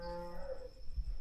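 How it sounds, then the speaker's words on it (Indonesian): A single cow moos once, a long low call from fairly close, followed by a couple of dull thumps. "Itu suara sapi ya,"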